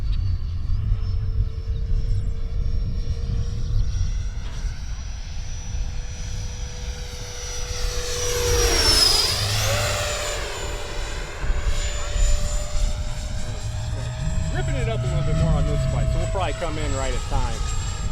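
An X-Fly Sirius 80mm RC jet plane flies overhead, its ducted fan whining with a sustained tone that sweeps sharply up and down as it makes a close, loud pass, then recedes, with wind noise throughout.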